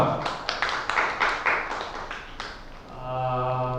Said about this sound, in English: round of applause. Well done.